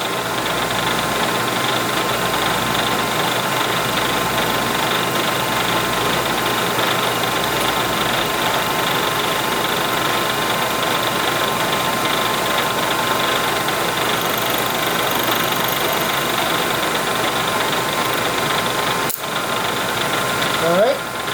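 A milling machine takes a cut on steel scope rings for a Browning A-Bolt 3 rifle, giving a steady loud droning hum with a faint chattering buzz throughout and a sharp click near the end; a voice talks briefly.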